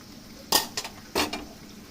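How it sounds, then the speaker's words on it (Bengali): A metal spatula stirs shrimp in a pan with two sharp scraping clatters about half a second apart, each followed by a softer knock, over a faint background hiss. "চিংড়ি মাছটা 2-1 মিনিট নাড়াচাড়া করব"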